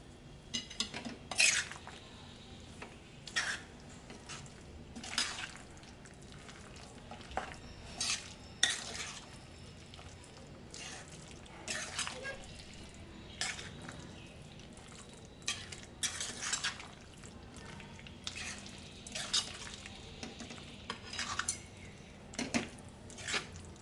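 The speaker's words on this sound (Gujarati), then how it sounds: "ગોળ આપણે તમારા ઘર પણ જેવું જોઈતું હોય એ રીતે લેવાનો। બધું મિક્સ કરી લઈશું।" Mango sabzi with jaggery is stirred in a pan with a spoon, producing close, repeated scraping and soft squelching strokes in an uneven rhythm, with no one speaking.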